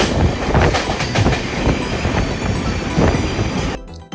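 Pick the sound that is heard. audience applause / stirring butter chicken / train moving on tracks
train moving on tracks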